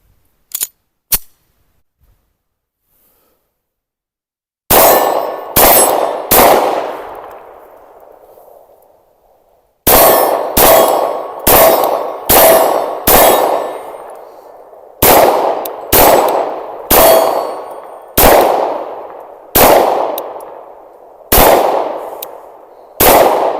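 A Glock 19X pistol fired at a shooting range, loud sharp individual shots in spaced groups of two to four with ringing decay between them, after a couple of faint clicks at the start.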